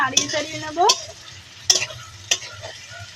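Pre-fried chopped soybean chunks tipped into a pan and stirred, giving a few sharp scraping clacks of a spatula against metal over a light sizzle, with pauses between strokes.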